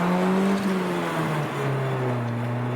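A manual stick-shift car driven on a street by a new learner hums steadily up close, the engine tone dipping and shifting in pitch as it pulls along without talk.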